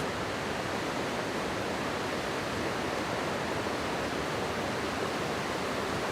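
The Romanche river runs as a rushing mountain torrent beneath a 50-metre suspension footbridge, a dense, unbroken roar of churning water that stays loud and even from start to finish.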